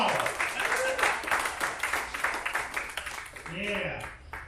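An audience at a Wednesday night church gathering gives a round of applause, a mixed crowd clapping under cheering and voices, rising and falling over several seconds.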